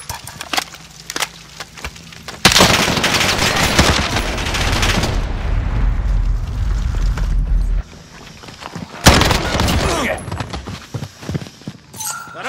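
Automatic gunfire in Call of Duty: Modern Warfare, with sharp scattered shots early, then a loud sustained burst of rapid fire in the middle and more close, punchy shots near the end.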